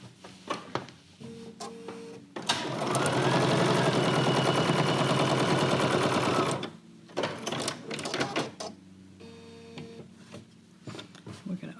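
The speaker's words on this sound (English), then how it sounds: "So we'll sew them together." A sewing machine joins quilt-as-you-go pieces in one loud, continuous run of rapid stitching lasting several seconds, with a person talking before and after.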